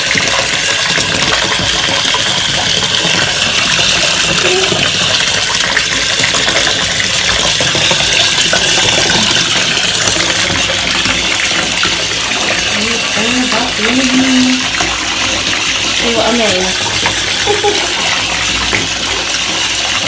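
Water sloshing and splashing in a bathtub during a relaxing bath, a steady close wash of liquid noise with small gurgles and drips throughout, no talking.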